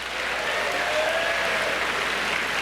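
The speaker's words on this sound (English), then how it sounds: "Can we give them a big round of applause one more time?" A big round of applause from the audience for the leadership team and staff at a student talk, a sustained, even roar of clapping at moderate distance.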